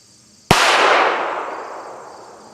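A single sharp, loud crack from a North American Arms 22 Magnum pocket pistol fired at a 7-yard target, with a bright ringing tail that fades over about two seconds; no voices are heard.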